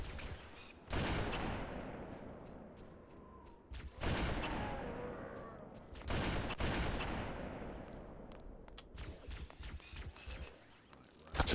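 Gunfire in Halo: Combat Evolved, several separate loud shots each followed by a long decaying echo, spaced a few seconds apart, with a final shot at the end.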